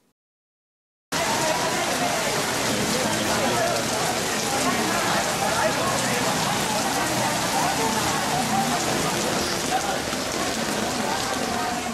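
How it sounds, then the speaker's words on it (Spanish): Heavy rain pours down on a Tokyo street, a dense, steady hiss of drops hitting surfaces that starts abruptly and continues loudly throughout. "Que si nos tomó esta lluvia por sorpresa."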